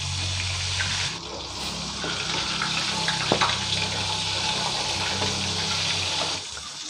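Mackerel frying in oil over low heat in a pan, a steady close sizzle and crackle with a low hum underneath, continuing throughout and briefly louder near the middle.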